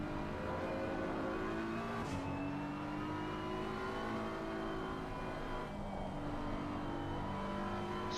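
A race car in the Assetto Corsa Competizione game drives at speed with a steady, loud engine drone, and the pitch rises and falls as it shifts and slides through corners, continuous and close with no talking.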